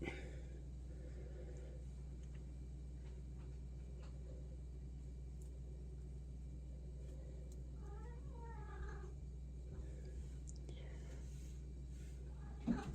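A hungry cat meows for food indoors, with a couple of plaintive, wavering meows rising over a quiet room hum and a low background rumble, fairly close but not loud, and faint voices murmuring.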